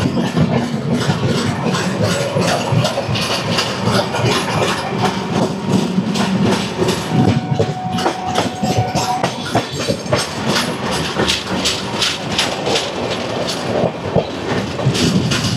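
The Purushottam Express, a New Delhi to Puri passenger train, rolls along the rails with a loud, steady, rhythmic clickety-clack of wheels heard from on board, continuous throughout with no talking.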